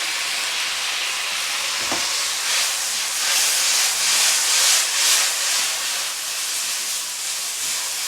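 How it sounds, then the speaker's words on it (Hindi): Soy sauce hits a hot pan of atta Maggi noodles with a loud, continuous close hiss and sizzle that swells in the middle and then settles, with no talking. "थोड़ा सा सोया सॉस डालेंगे हम"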